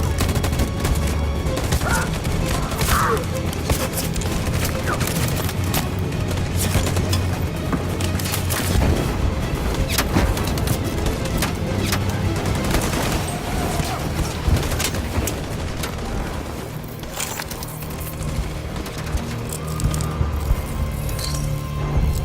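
A revolution scene in the video game Detroit: Become Human fills with a loud, sustained volley of gunfire. Dense overlapping shots and impacts continue without a break for over twenty seconds.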